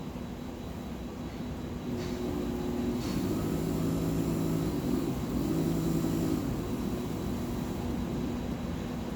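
Pump on a LapMaster Wolters Model 12 lapping machine runs with a low mechanical hum and tonal whine that swells and shifts pitch midway, fairly quiet and steady, with no talking.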